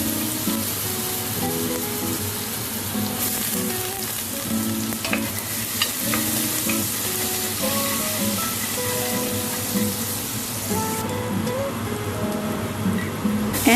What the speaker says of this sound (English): Just keep on sauteing the garlic and the onion.